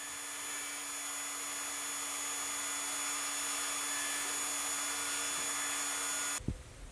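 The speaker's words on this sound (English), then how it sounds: "And finally, the routing begins" Power router cutting an inlay cavity into a guitar fretboard, a steady loud whine holding for several seconds and then stopping abruptly near the end.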